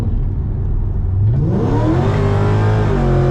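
A turbocharged V6 Camaro accelerates hard from a steady drone into a rising, loud engine howl with turbo whir, pitch climbing through the gear, no talking.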